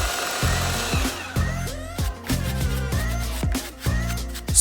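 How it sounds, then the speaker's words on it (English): A power tool sands small rings into shape, producing a buzzing, grinding whir broken by repeated short strokes and rubbing scrapes close by. "Sand the rings into shape."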